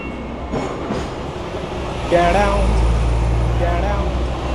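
A Hong Kong train rumbles steadily at close range with a deep low drone, then grows louder partway through as wheel and rail noise builds, while voices talk over it.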